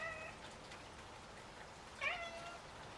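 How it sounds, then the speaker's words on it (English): A cat gives a soft, pathetic mew, brief and faint, against a quiet background that has a light patter like rain. "pathetic mew of a cat"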